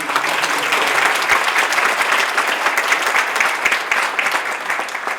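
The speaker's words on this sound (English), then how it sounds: "Let's give a round of applause for all the students." Loud, dense applause fills a Rotary meeting room for student speech contest participants, an even, continuous patter of many hands clapping without a break.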